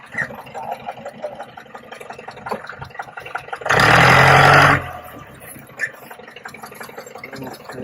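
A safari jeep off-roading downhill near Masinagudi, its engine rumbling at moderate level with one loud, dense burst of roaring noise midway, then settling back to a steady drone.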